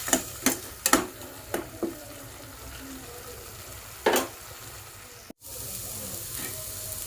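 Onions fry in oil for a tamarind prawn curry, with a soft continuous sizzle and several crisp clatters of a ladle against the pan early on, then one more scrape before a brief cut; no voices.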